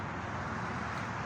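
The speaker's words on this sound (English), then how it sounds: "Excuse the traffic." Steady roar of interstate traffic heard from a moving vehicle, a continuous broadband rush with no breaks or talk.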